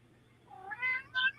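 A cat gives a short, close meow that rises in pitch, then a second brief chirpy meow, over faint background hum.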